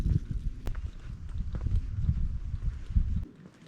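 Footsteps on a quiet street in Neos Marmaras, Sithonia, Greece, land in a steady, fairly close walking rhythm of soft thuds, with a few sharper clicks over faint outdoor ambience and no speech.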